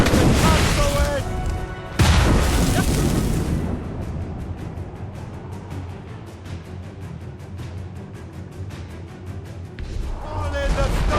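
Ship cannons fire during a naval battle in the video game Assassin's Creed Rogue. Heavy booming blasts open the scene, a sharp loud report follows near the two-second mark, then a continuous rumbling roar of battle persists under shouted voices.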